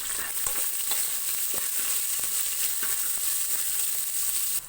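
Hot oil sizzles and crackles continuously as spices fry for a horse gram curry seasoning, with faint ticks and pops scattered through a steady hiss.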